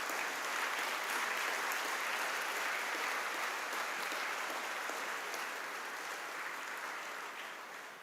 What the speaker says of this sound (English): Please get up and give a big applause to all your parents.